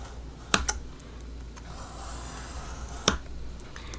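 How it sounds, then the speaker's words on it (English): Fiskars craft knife cutting through paper journal pages, two sharp close clicks or snips about two and a half seconds apart over quiet room noise, no talk. "I'm just using my Fiskar's craft knife"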